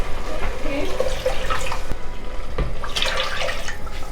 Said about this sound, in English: So to this I'm going to add 2 cups of water and then just cover it